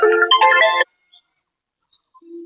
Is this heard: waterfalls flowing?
no